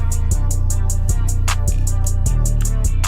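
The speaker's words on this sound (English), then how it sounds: "I threw in a few drum fills straight out of my 2025 kit." A loud programmed beat with heavy bass and regular hi-hat hits, with a burst of drum hits marking a fill midway through.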